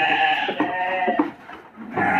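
Merino and Texel sheep bleat in a modern pen, several loud, wavering calls close by with brief pauses between them, and no speech.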